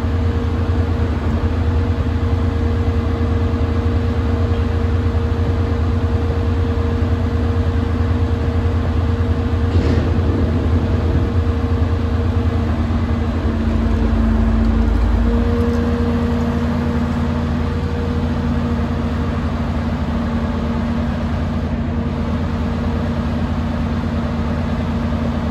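A hydraulic forklift engine runs on a building site, a loud steady low rumble with a constant drone, briefly shifting pitch and surging midway before settling back to a steady idle.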